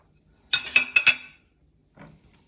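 A spoon knocks against a bowl while stirring bologna corn cake batter: four quick, bright clinks in close succession, followed by a brief faint scrape after a pause.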